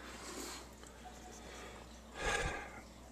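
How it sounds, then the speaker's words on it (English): A single short nasal snort or sniff close to the microphone, faint and brief, in an otherwise quiet room. "Excuse my sniffling."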